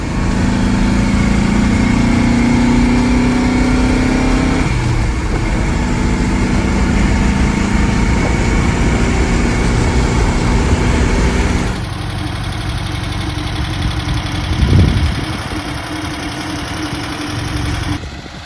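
A 1968 Porsche 912 engine idles steadily and nearby after running for close to an hour, a continuous low rumble with a brief change in tone about two-thirds of the way through.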